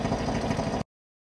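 A tank sound for an RC battle built from a pitch-shifted oil pump, a steady chugging mechanical drone with fine rapid pulsing, heard alone at moderate level for under a second before cutting off abruptly.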